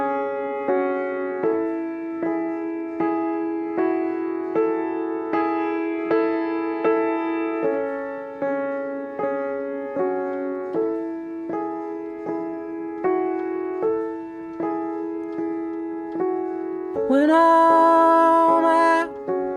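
A song plays alone: a steady, repeating pattern of sustained harmonic tones with regular rhythmic pulses, with a brighter, fuller swell near the end.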